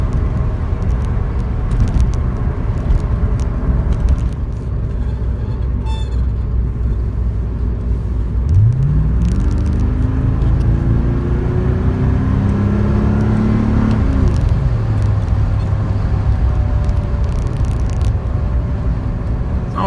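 A 1984 Ruby Red Porsche 928S driven on the road, its engine a steady low rumble with a rising pull as the car accelerates and shifts, heard from inside with constant road noise and no talk.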